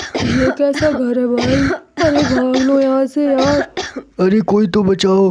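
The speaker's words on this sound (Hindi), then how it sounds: "ये किसके खांसने की आवाज़ है?" Cartoon thieves cough and choke on chilli smoke inside a house, with harsh throat-clearing and coughing mixed into loud, panicked Hindi shouting.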